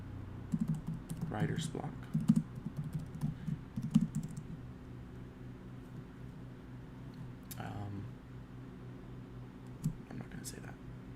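Computer keyboard typing while a social media post is composed, with bursts of quick key clicks in uneven runs, pauses between them, and a person speaking over parts of it.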